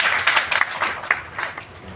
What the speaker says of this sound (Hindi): भाई त्रिपाठी जी के लिए सब लोग एक बार ताली तो बजा दीजिए तेज से